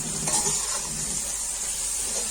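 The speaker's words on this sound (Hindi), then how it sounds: "मसालों को फ्राई कर लूंगी अच्छे से" Whole spices fry in oil in a pot for degi chana pulao, a dense, loud, close sizzle with a light stirring rustle, continuous and without speech.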